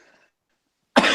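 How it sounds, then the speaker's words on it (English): A single sharp cough bursts out close to the mic after a stretch of near silence. "Oh, I was coughing."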